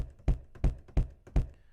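Four deep, punchy kick drum hits from a pitched-down, filtered sample land in an even rhythm, each with a soft low boom and a quick decay.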